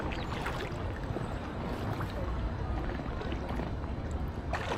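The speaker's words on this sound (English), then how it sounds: "It's quite a strong flow here." Strong floodwater in York rushes around an inflatable Aquaglide Cirrus kayak in a steady, loud, broadband roar of turbulent flow with brief splashes, close and continuous, with no voices.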